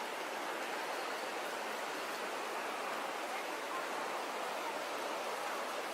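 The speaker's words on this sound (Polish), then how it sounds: "Dźwięk rzeki." A river rushing in heavy rain in misty mountains in Taiwan, a steady broadband roar of water with rain hiss, continuous and unbroken throughout with no voices.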